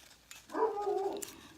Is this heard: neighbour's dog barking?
yes